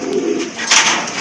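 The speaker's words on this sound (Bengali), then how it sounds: "এটা পুরা ইন্দোনেশিয়ান থেকে আসা একটা কবুতর।" An Indonesian pigeon gives a short, soft coo up close, a brief throaty call over light background noise.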